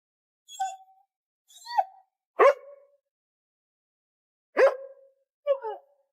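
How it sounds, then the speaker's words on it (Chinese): A dog outside barks five times in sharp, irregularly spaced bursts, each bark clear and isolated against silence. "外面的狗子再次叫了起来"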